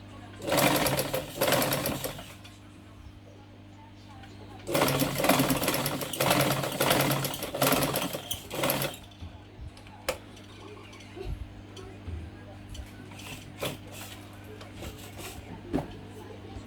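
A sewing machine stitches pleats into a ready-made saree, with two long loud bursts of rapid mechanical stitching separated by pauses and followed by short clicks and handling noises.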